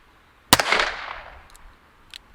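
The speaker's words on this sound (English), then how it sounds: "Now, let's get these other 4 shots" A single .357 Magnum round, a Bone Crusher load, fired at a range over a chronograph: one loud, sharp crack with a long decaying tail, then a faint click near the end.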